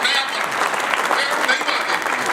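A comedy show audience applauds steadily for the whole couple of seconds, a dense, even wash of clapping that stays loud from start to finish.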